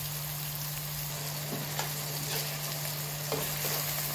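Onions frying in oil as the base for a stuffed-vegetable (mahshi) sauce, giving a continuous close sizzle with a few soft stirring knocks, steady and moderately quiet over a low constant hum.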